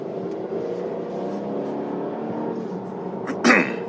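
A Volvo S90 T6 R-Design in dynamic drive mode accelerating under normal throttle, a smooth, steady engine hum heard from inside the cabin, with a brief louder rustle near the end.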